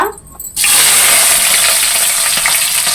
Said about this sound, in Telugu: పచ్చిమిర్చి, కరివేపాకు వేసాను. ఉల్లిగడ్డ అయితే ఫ్రై అయిందండి.